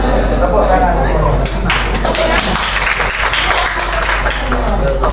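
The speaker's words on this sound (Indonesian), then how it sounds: "Tepuk tangan semua." Classroom audience applauding after a group presentation, a dense burst of clapping throughout with voices mixed in.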